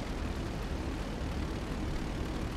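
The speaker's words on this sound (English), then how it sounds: "A helicopter's dropping away like something's happened to it." A helicopter drops out of the sky in the video game GTA 5 Online, giving a constant whooshing rotor and engine roar at an even, moderate level, heard alone without talk.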